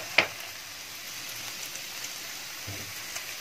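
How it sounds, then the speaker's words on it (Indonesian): Eggplant stir-fried with seasoning in a pan, a soft steady sizzle running throughout with a couple of brief clatters of a utensil, no talking. "Ngoseng terong, bumbunya nih jalan."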